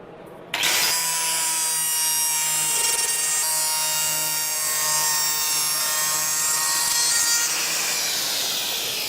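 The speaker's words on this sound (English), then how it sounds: "Use the woodcarver" A Woodcarver Gold power tool cuts into wood, starting suddenly with a loud, rough grinding whir that carries on steadily for several seconds with shifting rasping texture, close and alone without talk.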